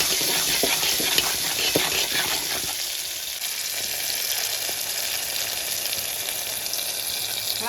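A tomato, chilli, turmeric and salt mixture fries in a pan while a spoon stirs it, giving a continuous close sizzle with scraping strokes early on that thin out into a softer, even hiss.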